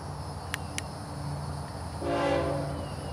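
The FEC101 locomotive sounds its horn in a brief, tonal blast, heard at a moderate distance over a low, steady rumble outdoors.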